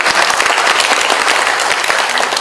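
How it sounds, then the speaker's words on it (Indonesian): A seminar audience at a regional handicrafts event bursts into loud, dense applause, many hands clapping steadily and close for the whole stretch, with no speech over it. "tepuk tangan untuk semua"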